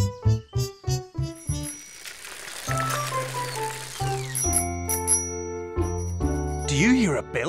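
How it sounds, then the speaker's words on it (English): A bicycle bell rings in a quick series of bright dings, followed by tonal, musical sounds and a voice. "That's the bell of Rat's bike"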